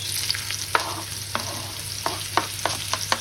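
Onions sizzle in a frying pan just cleared of pork chops, a steady close hiss broken by several sharp clicks of a utensil stirring, with no talk.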